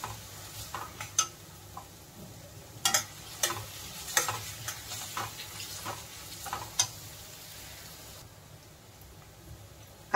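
Onions roast in a pan until brown, a continuous close sizzle broken by repeated sharp clicks and scrapes of a utensil stirring against the pan, with no voices.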